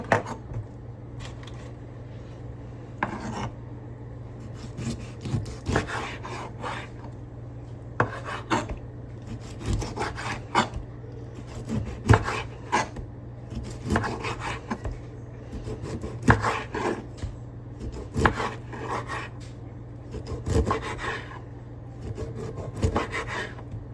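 Repeated dry scraping and tapping of a knife on a board, uneven strokes continuing throughout over a steady low hum, close by.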